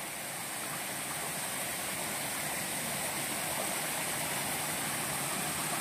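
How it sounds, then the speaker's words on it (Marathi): Fast-flowing stream water in a Konkan creek near Dapoli, set up for crab trapping, rushing as a steady, dense broadband roar that stays close and unbroken throughout with no voices. "कारण पाणी भरपूरच वाहतोय"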